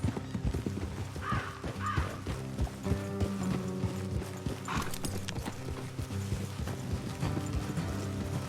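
Rhythmic clip-clop of horse hooves at a steady trot in Red Dead Redemption 2, with a brief whinny and game music and ambient tones underneath.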